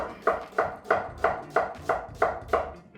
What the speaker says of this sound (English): I'm gonna slice up 1 white onion.